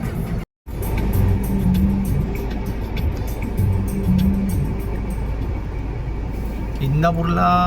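Heavy road traffic jam before Indapur, with a steady engine hum and rumble from inside a vehicle and a horn honking near the end, under continuous talk.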